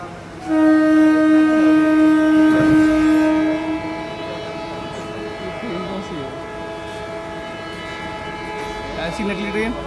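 An Indian Railways maintenance train goes by with a loud, sustained horn-like tone for about three seconds, followed by a steadier rumble of the passing rail vehicle. No voices are heard.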